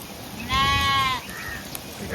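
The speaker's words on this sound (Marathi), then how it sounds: "हे बघा मेंढ्या." Sheep on a small Indian farm give a single clear, drawn-out bleat lasting under a second, fairly close, over low background noise.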